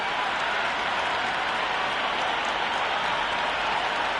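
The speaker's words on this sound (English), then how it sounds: "this crowd is already making it hard for me to be heard" Dense, steady roar of a cricket stadium crowd cheering in the Cricket 26 video game before a T20 match between India and South Africa, loud and continuous with no distinct breaks.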